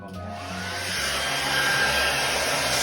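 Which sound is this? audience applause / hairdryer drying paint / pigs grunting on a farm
hairdryer drying paint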